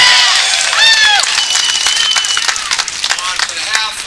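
Crowd applause at a legislative gun-safety rally, a steady wash of clapping from many hands with scattered cheers and whistles, fairly loud and sustained, fading toward the end.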